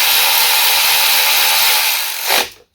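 An electric tool tightens spark plugs on a Honda K24 engine, a steady whirring buzz for over two seconds that winds down and stops abruptly.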